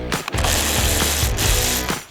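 A ratchet loosens the bumper bolts on a Honda Civic, producing loud, close, continuous clicking strokes with brief pauses between pulls and no speech.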